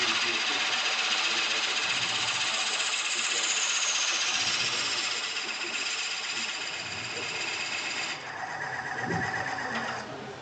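Woodworking drill press boring with a 1 7/16 inch bit at over 600 RPM, a steady high-pitched whine and rasp running loud and continuous throughout, shifting slightly near the end.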